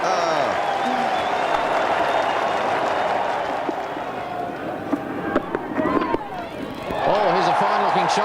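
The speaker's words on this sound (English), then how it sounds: "the crowd give him an enormous cheer here at Lancaster Park" Crowd at a cricket match at Lancaster Park gives a loud, sustained cheer and applause that dips midway, then swells again, with a commentator talking over it.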